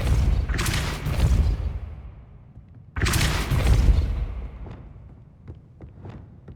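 Two forceful whooshing blasts about three seconds apart: the Depulso spell cast in Hogwarts Legacy, each burst rumbling before it fades, with small clicks and taps after the second.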